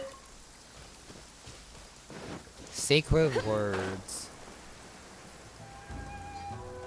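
Steady rain falls in the video game Genshin Impact, a constant soft hiss running throughout the clip, with a voice speaking briefly over it near the middle.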